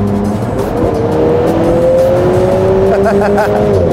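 A sports car engine roars loudly and steadily up close, its pitch rising as it accelerates, with a voice talking over it.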